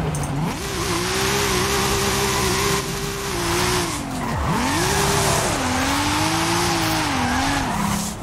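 In Forza Horizon 5, a Lexus SC300 slides sideways with sustained, loud tire squeal over a revving engine whose pitch dips sharply once mid-drift before climbing back. The sound is continuous, close and unbroken by speech.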